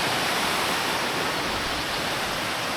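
A small river in the Yorkshire Dales, between Kirkby Stephen and Richmond, rushes noisily, a loud, steady broadband roar of flowing water close by with no voices.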